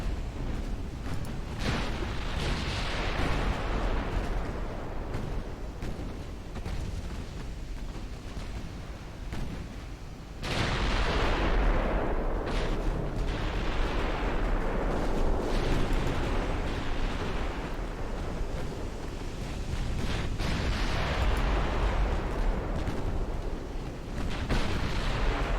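Naval gunfire pounds around destroyers in Ultimate Admiral: Dreadnoughts, with repeated heavy booms and rolling blasts over a continuous rumble of battle, some shots sharper and louder than others, across about twenty-five seconds.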